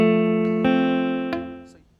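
A guitar chord from an imperfect F barre fingering rings close and fairly loud, with a dull, muted note on the first string and a few faint finger clicks as it slowly fades out.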